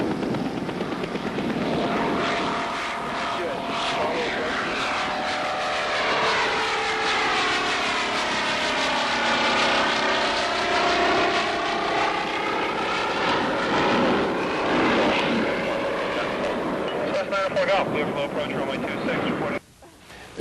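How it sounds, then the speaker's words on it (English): A propeller airplane with a Revolver Cam (Dynacam) engine drones loudly and steadily as it takes off, its pitch sweeping as the aircraft passes and climbs away. "Taking off, there's lift off,"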